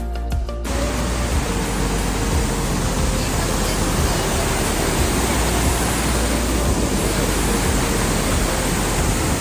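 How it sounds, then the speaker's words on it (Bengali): Borhill Falls in Meghalaya roars as a steady, loud, unbroken wash of falling water that fills the whole clip. "ঝর্ণার পানি পড়ার শব্দটা তো মারাত্মক সুন্দর"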